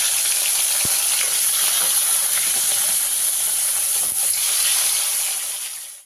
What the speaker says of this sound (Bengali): এবারে আমি আর বাকি মাছগুলোকে ভেজে নেব